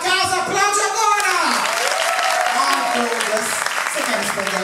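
A stand-up comedy audience applauds, a broad clapping wash under loud cheering and excited voices.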